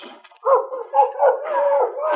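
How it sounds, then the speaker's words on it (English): A dog whines and cries at a cellar door around the side of an old tower house in a radio drama. The high, wavering whimpers rise and fall close by in a steady run of about two seconds, with no talk over them. "The dog, he's crying, Barry."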